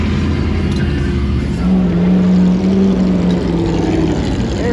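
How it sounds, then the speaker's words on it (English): A King of the Hammers off-road race car passes on a rock crawling trail, its engine a loud, steady drone that swells and revs as it goes by, with no talk over it. "Race cars sound so much like race cars."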